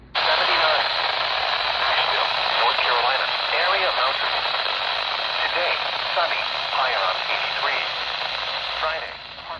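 Weather radio station WXK54 from Augusta, Georgia, broadcasts a synthesized voice reading a forecast through narrow, hissy radio audio, steady and continuous.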